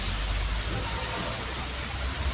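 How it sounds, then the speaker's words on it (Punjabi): Moderate rain falling steadily after a spell of heavy heat, a dense, even hiss of water close by with no breaks and no voices. "ਅੱਜ ਜਿਹੜਾ ਉਹ ਮੀਂਹ ਜਿਹੜਾ ਪਰਮਾਤਮਾ ਨੇ ਪਾ ਦਿੱਤਾ ਵਾ"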